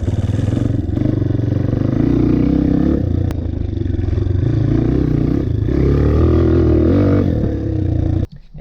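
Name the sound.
dirt bike engine with throttle while cornering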